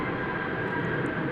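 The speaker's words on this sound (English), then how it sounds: "Coming in from Charlotte is Flight 422 on an Airbus" An American Airlines Airbus, Flight 422 from Charlotte, arrives at DFW Airport with a steady, loud broadband jet roar that holds evenly throughout.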